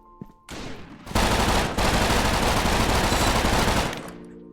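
Rapid, sustained automatic gunfire in the PvP shooter game Frontline Inferno, a loud dense burst running for about three seconds after a brief lead-in, then tailing off, with no talk over it.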